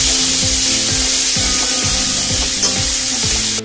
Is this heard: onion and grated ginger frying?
yes